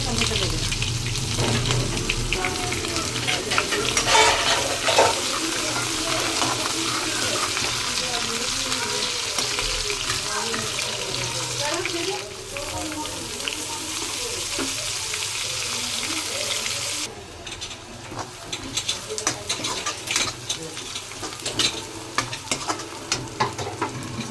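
Chow mein stir-frying in a pan at home, a steady broadband sizzle with scraping stirs running throughout and faint voices in the background.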